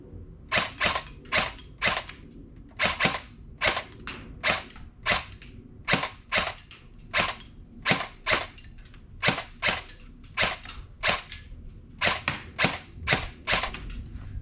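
An LCT LC-3 AR airsoft electric gun fires off the rest of a magazine, with some double-feed trouble: about two dozen sharp, loud snapping shots in irregular pairs and singles, close by, with no talk.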